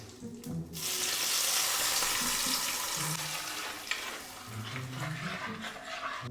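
Water pours and splashes into a pan of ground masala with a soft sizzle, followed by quieter stirring and scraping noises nearby.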